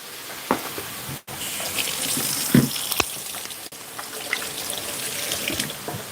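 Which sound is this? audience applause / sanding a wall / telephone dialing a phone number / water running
water running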